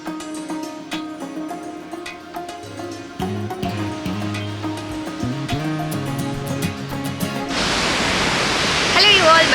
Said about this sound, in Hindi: So we are at Bhallara waterfall